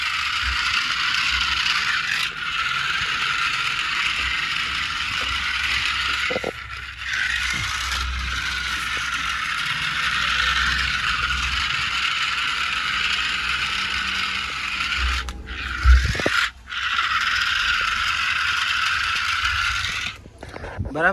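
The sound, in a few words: toy army tank running mechanism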